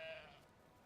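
A single short sheep bleat from the video game Brothers: A Tale of Two Sons, faint and quickly fading out, with no talk over it.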